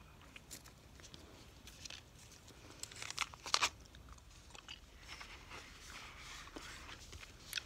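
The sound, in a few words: chewing Wrigley's Juicy Fruit gum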